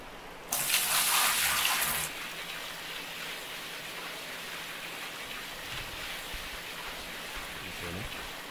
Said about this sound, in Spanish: Ahora hay que coger agua del río.